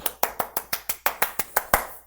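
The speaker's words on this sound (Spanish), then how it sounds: "baten palmas contra ti" Eleven sharp hand claps in a steady rhythm, close and distinct, each one a crisp slap that fades quickly, with no voices.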